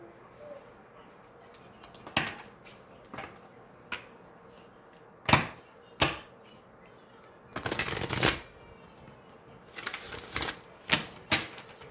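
Crystal card deck being handled and shuffled, quiet crisp riffles and slaps in irregular short bursts with a longer flurry near the middle, close and faint against a silent room.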